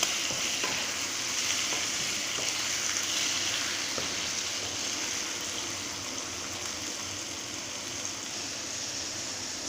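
Loud, steady sizzle of food frying in a pan on a home stove, with scraping and tapping strokes of a utensil stirring it, close and continuous with no talk over it.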